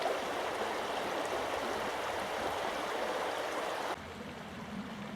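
Stream water flowing steadily on Dartmoor moorland, a continuous close rushing and gurgling that stays even throughout, dropping slightly in level near the end.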